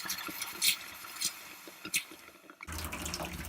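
A caravan's hot water tap splutters with air in the line, sending a few sharp spitting bursts over a faint trickle before the water settles into a steady, full running stream.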